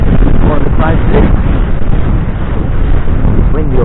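Strong wind buffets the microphone on top of Lowe's Potts Hill near Pooley Bridge, a loud, continuous roaring rumble with gusty swells throughout.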